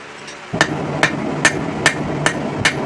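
Hammer forging down the welds on a folded rebar sword blank, six loud ringing metal strikes at a steady, even pace after a brief quiet start, close and alone.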